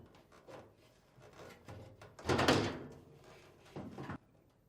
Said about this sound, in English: lift up on the panel to release it from these 2 retaining tabs